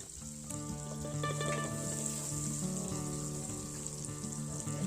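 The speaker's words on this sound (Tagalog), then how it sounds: "nagisa na siya ng karne, ayan, sibuyas at bawang" Pork, onion and garlic sauté in a pan for a banana-blossom dish, giving a steady loud sizzle and crackle with a bright hiss. A faint tonal hum runs underneath and no one speaks.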